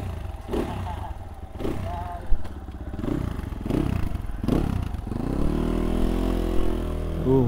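A motorcycle on an off-road ride runs close by with clattering and rough engine surges, then settles into a steady, louder revving drone toward the end.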